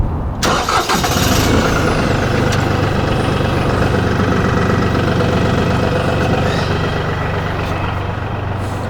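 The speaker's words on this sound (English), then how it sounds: "Okay, tractor's on." A large LS tractor diesel engine cranks and catches, then settles into a loud, steady idle with a low rhythmic rumble, close by and continuous.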